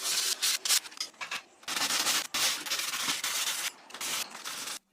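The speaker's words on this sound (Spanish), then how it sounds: "lo que terminé haciendo fue lijar todas las reparaciones antiguas y la nueva fibra de vidrio" Hand sanding of old fiberglass repairs on a 50-year-old boat, a loud close rasping scrub in rapid repeated strokes with brief pauses, no talking.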